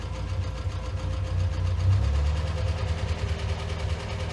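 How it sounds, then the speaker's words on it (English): The engine of a 1966 Triumph Spitfire 4 Mk II idles close by with a low, slightly uneven, lumpy rhythmic chug that holds steady throughout. "Runs quite well. Bit lumpy, but that's kind of normal for this engine."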